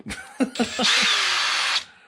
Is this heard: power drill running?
yes